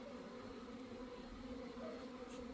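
Honeybees on cleansing flights around the hives at an apiary in April, a faint, steady drone with no breaks and no talking.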